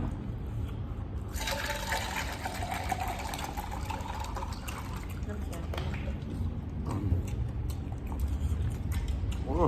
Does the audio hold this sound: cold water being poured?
yes